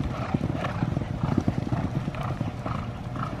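Horses' hooves clip-clop steadily at a polo match, a dense run of close, rhythmic hoofbeats on turf with a brief whinny and faint voices in the background.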